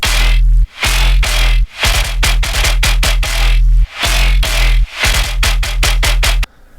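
Heavy, gritty machine-gun-style synth bass made in Serum, pulsing in a choppy rhythm, loud and saturated, with short gaps between bursts and no voices.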